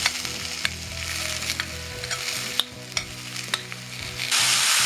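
Channa dal poriyal with coconut and dried chili fries in a pan with a steady, close sizzle punctuated by occasional stirring clicks, swelling louder toward the end.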